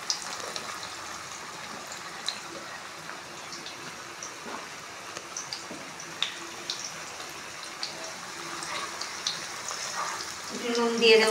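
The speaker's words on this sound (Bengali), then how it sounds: "এখন আমি কেটে রাখা আলুগুলো লাল করে ভেজে নেব।" Cut potatoes frying in oil for a kabuli chana dish, a faint steady crackle with scattered small pops and clicks, growing louder and busier near the end.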